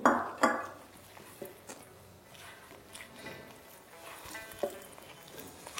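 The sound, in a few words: mixing paste with water in a bowl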